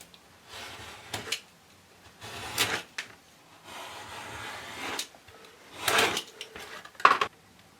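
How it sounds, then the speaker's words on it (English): A normal craft knife scoring out a round piece of plastic chest plate for an Iron Man Hulkbuster cosplay: several close, short scraping strokes come in separate bursts with quiet gaps between them, and no one speaks. "So I need to cut this out now, which I'm going to use a normal craft knife"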